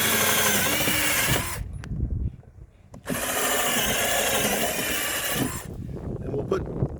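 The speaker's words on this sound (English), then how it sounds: "For expedience sake, I'm just going to drill the hole" A power drill bores a hole through part of a 16 ft Expandacraft outrigger canoe kit, with two loud, sustained whirring bursts separated by brief pauses and scraping noise.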